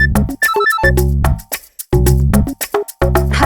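A melodic electronic ringtone plays close and loud, a repeating phrase of bright beeping notes broken by short pauses.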